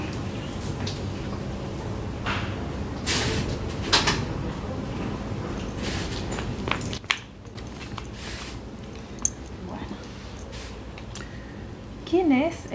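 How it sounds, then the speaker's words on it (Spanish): A door is pulled shut indoors with a single muffled thud partway through, and the room noise drops noticeably afterward; people can be heard talking around it. "voy a cerrar la puerta."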